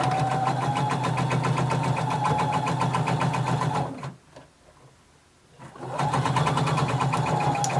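A sewing machine sews a garment facing, its close, steady motor whir chattering with rapid needle strokes. It pauses briefly midway and then resumes at the same pace.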